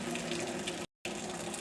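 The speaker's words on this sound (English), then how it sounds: "Okay, let's drain our beans." Water from a pot of boiled beans being drained and poured, a continuous close splashing gush broken by a brief silent gap before the flow resumes.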